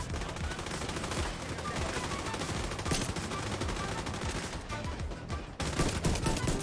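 Dense, continuous gunfire in The Division 2, rapid bursts from automatic weapons layered over a busy game soundscape, loud and sustained throughout with no pauses.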